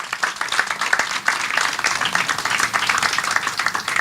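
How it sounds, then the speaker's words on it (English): An outdoor audience at a Christmas tree lighting event during Carnival claps for the Anglican Church, a steady, dense round of applause lasting several seconds at moderate loudness, with no talking over it. "I ask you to give the Anglican Church a round of applause."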